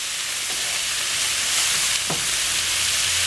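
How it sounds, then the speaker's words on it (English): Kielbasa, vegetables and garlic sautéing in a pan give a steady, loud sizzle with a few faint clinks of stirring. "Get it sauteing."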